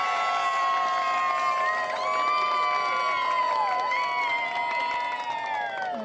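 A crowd at a Jacksonville show stop cheering and shouting with excited, high-pitched voices and whoops over steady clapping, sustained throughout at moderate loudness.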